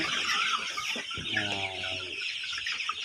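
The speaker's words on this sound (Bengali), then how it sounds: "যখন লড়াচড়া এলে মুরগি কীরকম কত সুন্দর করে দৌড়ায়" Chickens cluck and call in a short burst of bright, harmonic fowl sounds over steady farmyard ambience, with no one talking.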